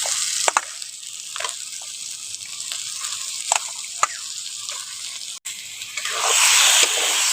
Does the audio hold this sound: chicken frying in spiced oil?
yes